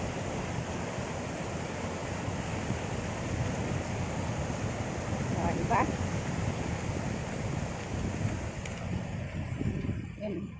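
A steady, broad rush of river water fills the whole clip, constant and fairly close, heard from the riverbank, with a faint brief sound partway through.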